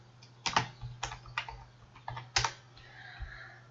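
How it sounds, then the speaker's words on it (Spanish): A computer keyboard is typed on to enter a search in Google's search bar: a series of close, crisp key clicks in irregular bursts, fairly quiet, with no talking. "en la barra de búsqueda de Google vamos a escribir Seguridad Social"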